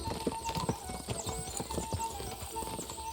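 Rapid horse hoofbeats clatter in a galloping rhythm in the video game Kingdom Come: Deliverance II, with sharp repeated thuds and a faint tonal game backdrop; no talking.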